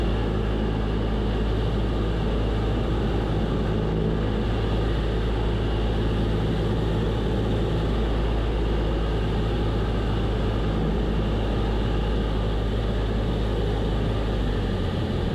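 A light training airplane turns from base leg onto final approach, its engine and propeller making a steady, loud drone heard from inside the cabin throughout.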